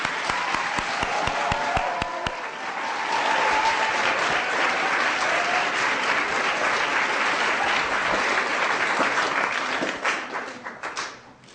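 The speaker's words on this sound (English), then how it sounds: "Give a big round of applause to Sweet Honey in the Rock." Sixth and seventh graders welcome the singers Sweet Honey in the Rock. A few crisp rhythmic claps swell into a loud, sustained roar of applause from the crowd, which tapers off at the end.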